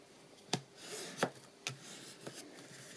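Paper being scored and folded for a card: sharp scraping strokes and rubs, with four distinct swipes spaced irregularly over a quiet background.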